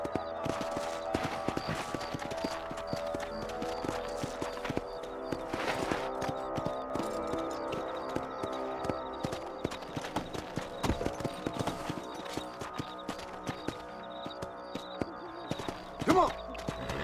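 Horse hooves galloping in the Red Dead Redemption video game, a steady rapid clip-clop rhythm of moderate loudness continuing throughout, with other game sounds and a brief shout layered over it.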